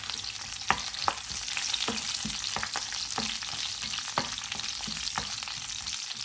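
Mustard seeds, dried red chilies and curry leaves sizzle loudly in hot oil, a dense steady frying hiss broken by sharp irregular pops and crackles, close up and with no voices.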